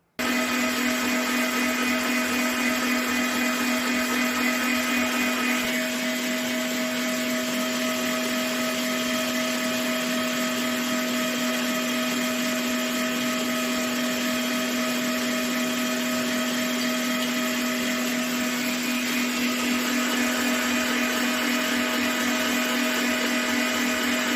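Electric mixer beating cake batter for a cake in a jar, a loud continuous motor whine with steady tones, unbroken throughout, with a slight drop in pitch after the first few seconds and no talking.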